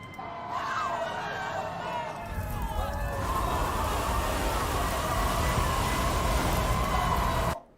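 A siren sound effect wails with rising and falling tones, then gives way to a dense, steady wash of noise that cuts off abruptly at the end.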